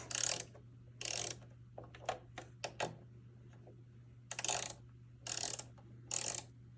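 Screws are loosened on a Singer 4452 sewing machine, with sharp, close ratcheting clicks and short metallic bursts separated by quiet gaps.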